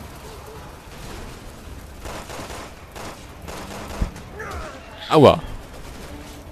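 Sniper gunfire in the video game Resident Evil 6: a single sharp, loud shot bursts out near the end over a low, rumbling game backdrop, and a voice cries out in pain.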